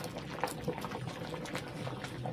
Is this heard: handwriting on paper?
no